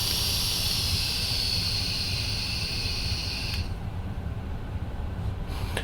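Steady, close airflow hiss from an Innokin iSub G sub-ohm vape tank, a broad breathy rush that runs continuously and then thins and softens partway through without stopping.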